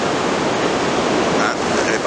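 Ocean waves break on the beach at Anglet, making a loud, continuous surf roar with hissing wash and some wind buffeting the microphone, close and unbroken.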